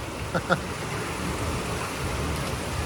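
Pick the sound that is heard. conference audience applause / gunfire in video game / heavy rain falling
heavy rain falling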